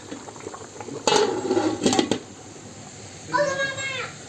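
Tomato and pepper menemen, made for home canning, simmers and sizzles in a pot with a brief burst of bubbling, followed by a voice speaking nearby.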